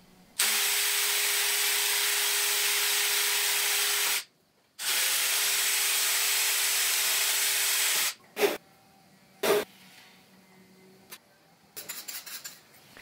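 Drilling screw holes with a tap-drill-size bit, in two sustained high whirring bursts of about four seconds each with a short gap between, followed by a few light clicks and taps, close and alone.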